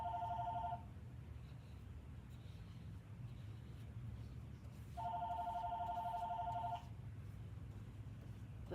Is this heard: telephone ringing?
yes